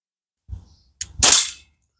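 A Crosman 1911 BB pistol, an all-plastic air pistol, fires a soft pop and, a moment later, a sharper metallic smack as the BB strikes a can, both close and brief with no voice.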